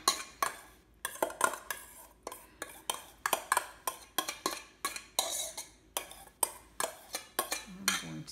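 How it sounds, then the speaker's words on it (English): A spoon mixes pimento cheese with onions in a bowl, giving a run of rhythmic clacks and scrapes against the bowl, close and steady, with a short pause partway through. "And just mix it all up."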